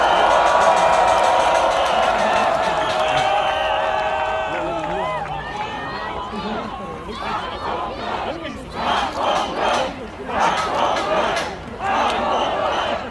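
A large crowd at an outdoor political protest rally applauds and cheers loudly, a dense roar of clapping and shouting voices that gradually thins into bursts of chanting and calls.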